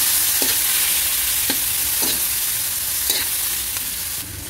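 Garlic frying in a pan is stirred, with loud, continuous sizzling broken by a handful of spaced scraping strokes, close by and with no talk.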